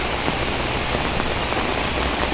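Steady, dense rain patters continuously on tarpaulin sheets nearby, a broad hissing wash with no voices.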